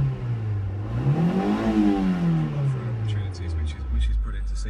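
A 1991 Toyota Celica 2.0 GTI engine idles steadily after starting, a continuous low hum with a brief rise in pitch as it settles, close and fairly loud throughout.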